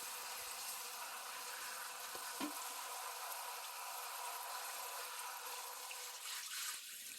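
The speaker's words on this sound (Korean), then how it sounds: "옥수수 껍질과 옥수수 수염을 잘 씻어주세요." Corn husks and corn silk being washed in water, heard as a steady, close wash of running and splashing water with a faint knock partway through, no voices.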